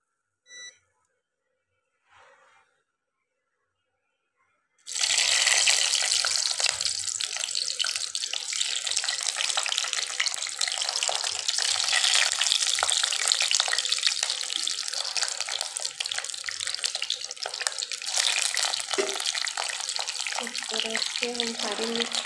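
Stuffed green chillies with a potato filling laid into hot oil in a pan, giving a loud, steady sizzling hiss that starts abruptly after a few quiet seconds and continues unbroken.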